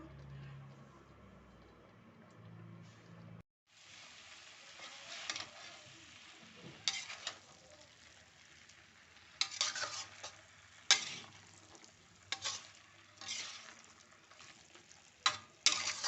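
Wedding-style cabbage curry cooking under a lid, a quiet muffled simmer that goes briefly silent, then gets a series of sharp stirring clacks and scrapes against the pan, with a faint voice at the start.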